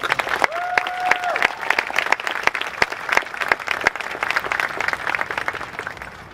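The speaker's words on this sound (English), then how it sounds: "Let's give her another round of applause" Audience applause at a Xicanx/Latinx university graduation ceremony is steady and sustained, full of sharp individual claps over a dense crowd wash. A brief whistle-like tone sounds early on.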